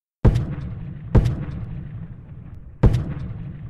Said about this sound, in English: The brigades of Schneck and Reynolds engage in artillery duels